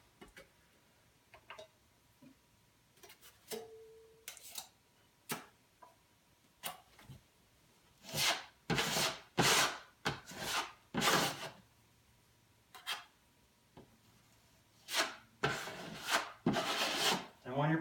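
A putty knife spreads joint compound across a wall during a repair, making a series of raspy scraping strokes that come in quick, close bursts, with a few faint knocks and ticks in the pauses between.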